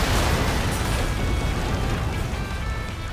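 A big explosion in the video game Ys X: Nordics, a loud, dense, continuous roar of blast and rumble that fills the whole moment and only slightly eases toward the end, with no talking.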